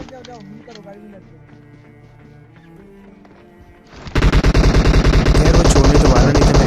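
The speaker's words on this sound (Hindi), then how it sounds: "मेरे लेफ्ट से भी फायर आ रहा है सामने वाले घरों से" Rapid automatic gunfire from a battle royale video game, with loud sustained bursts of shots cracking in a dense stream after a quieter stretch of game ambience and music.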